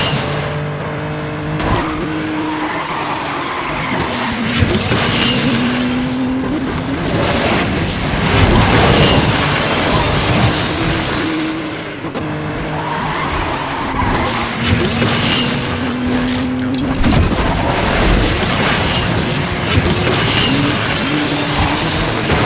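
A Pininfarina Battista race car in Asphalt 9 roars continuously and loudly, with engine revving, tire skids and squeals as it drifts through corners, no voices over it.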